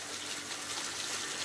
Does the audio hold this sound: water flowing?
yes